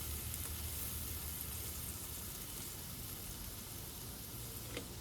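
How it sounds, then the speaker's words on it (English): Steady, dense sizzling hiss fills the whole stretch, a continuous crackle of flatbread frying on a hot grill, close by and fairly loud. "You can hear it sizzling."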